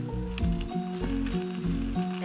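Otak otak parcels grill on a flat base pan with a steady sizzle, accompanied by a pulsing, repeating tonal pattern that sounds like background music.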